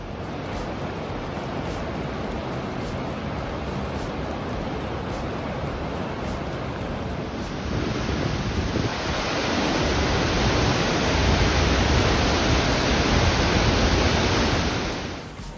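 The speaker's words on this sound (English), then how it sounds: "So much rain in Milford Sound today." Heavy rain pours at Milford Sound amid flooding and washed-out tracks, a dense, steady broadband hiss that swells louder partway through and drowns out everything else.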